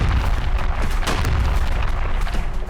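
Dense, continuous heavy rumbling and booming from bombardment explosions in Gaza, loud and unbroken throughout with no clear pauses between blasts and no speech.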